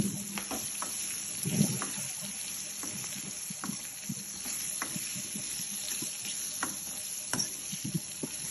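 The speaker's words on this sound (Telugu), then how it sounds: "నెక్స్ట్ కలుపుతూనే ఉన్నాడు." Chopped drumstick pieces are stirred in a sizzling pan, with soft scraping and clinking of the spoon over steady frying hiss, close and moderately quiet, no voices.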